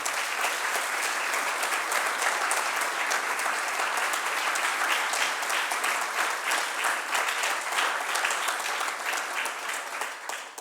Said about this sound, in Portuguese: para quem eu vou pedir uma salva de palmas